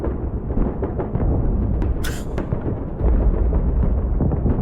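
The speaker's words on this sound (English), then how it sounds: "World War II battle sounds" Recorded World War II battle sounds with a dense, continuous rumble of gunfire and explosions, a sharp burst near the middle and a heavier boom later, played back steadily at moderate loudness.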